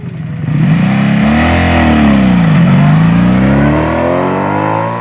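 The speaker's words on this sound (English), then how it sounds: "had an ample spread of torque thanks to the V4 engine, and sounded wicked" A Honda V4 motorcycle engine revs up, dips and climbs again in a loud, close, sustained snarl lasting several seconds, with no talking.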